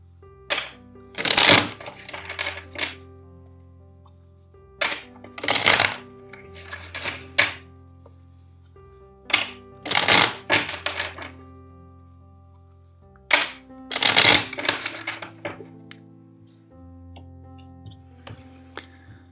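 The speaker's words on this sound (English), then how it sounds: "First, let's shuffle the deck four times." A tarot card deck is shuffled by hand in bursts, with crisp riffles and soft thumps of the cards being tapped and squared, repeated several times with short pauses between, close and clear with no talking.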